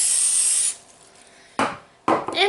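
Cooking spray hisses from an aerosol can onto a cookie sheet in a home kitchen, one long loud burst followed by two shorter sprays after a pause, with no talking.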